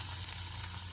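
Hot tempering of spices and oil poured into snake gourd kootu gives a steady, close crackling sizzle that holds evenly for under a second, with no voices.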